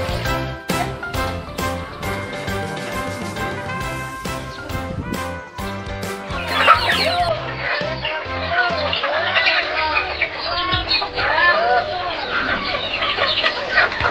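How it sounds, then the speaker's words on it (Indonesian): Chickens cluck and chatter at a pesantren coop, the birds fairly close and continuous under music, with voices in the background. "ayam-ayam ini sengaja dipelihara pesantren sebagai salah satu cara untuk kami berlatih wirausaha"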